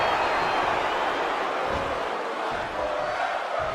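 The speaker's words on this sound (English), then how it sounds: "Now this crowd with Fight Forever chants really showing their appreciation for these two here tonight." A large arena crowd in WWE 2K23 wrestling chants Fight Forever, a dense, loud, continuous roar of many voices filling the space with no break.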